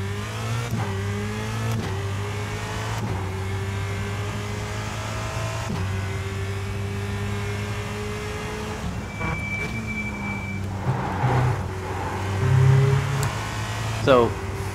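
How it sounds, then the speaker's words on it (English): Formula Renault 2.0 race car in iRacing on an outlap, its engine droning steadily while the chassis thumps over a curb with a few short jolts near the end, under a speaking voice. "I'll just do outlaps and drive over a curb."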